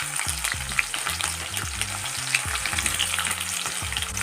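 Onions sizzle in a pan with garlic and green chilli, giving a steady, crackling fry throughout while someone speaks over it.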